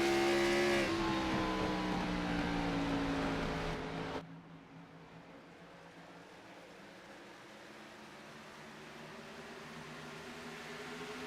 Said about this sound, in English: Listen to him get in and out of the gas.